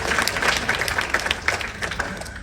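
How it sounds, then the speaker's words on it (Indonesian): A church congregation claps together in a steady burst of applause, a dense patter of many hands filling the room at moderate loudness. "Berikan tepuk tangan kita untuk Tuhan kita."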